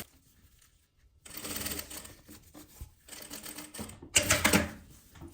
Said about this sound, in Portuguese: Eu costuro. Rebato a costura.